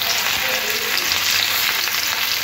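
Thinly sliced potatoes, beans and carrot fry in hot oil with a loud, dense, unbroken sizzle close by, a continuous bright crackle and no talking.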